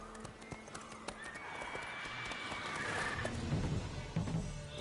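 Roach, a horse in a video game, gives a clear neigh over steady hoof clip-clops as it trots, fairly close, with game background ambience underneath.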